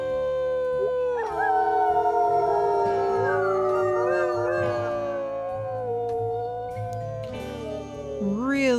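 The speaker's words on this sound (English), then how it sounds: "Let's go ahead and do a nice howl as well." Several wolves from a pack in the WolfQuest video game howl together in long, layered, sliding tones, loud and close, holding for several seconds before rising into a final yip-like note, with someone talking briefly beneath.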